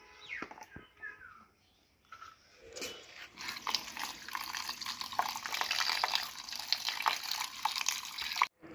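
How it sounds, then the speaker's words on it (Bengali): Running tap water splashing and trickling as fresh chhana (cottage cheese) is rinsed in a kitchen, a steady close wash building after a few brief clinks and drips, alone without talk. "এবার আমি এটাকে ধুয়ে নিয়ে আসি।"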